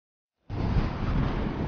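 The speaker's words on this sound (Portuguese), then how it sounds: "a força do vento aqui." Strong wind blows across the Parnaíba Delta, cutting in abruptly after a moment of silence, then roaring steadily against the microphone as a loud, broadband rush with no one speaking.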